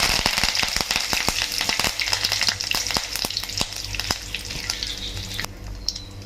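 Curry leaves hit hot oil in a pan, bursting into a loud crackling sizzle with rapid sharp pops that slowly thin out and calm near the end.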